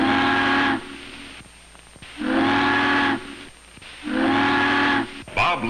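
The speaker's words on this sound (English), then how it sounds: "Bob listens for her to signal for the bridge. 3 long whistles." A ship's steam whistle sounds three long, loud blasts to signal a bridge, each lasting about a second with short quiet gaps between them.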